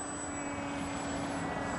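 RCPowers F35 radio-controlled model jet running on a 2S battery, flying in to land: a steady, even electric motor whine with a high-pitched tonal hum, held at constant loudness throughout, with no talk.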